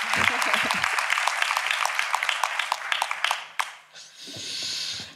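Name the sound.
audience applause welcoming a guest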